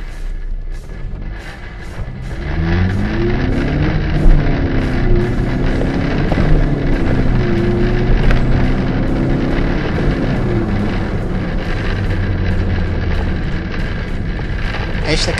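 A car with a worn, slipping clutch revs through gear changes, the engine pitch rising and falling in sweeps under heavy, constant wind buffeting on the microphone.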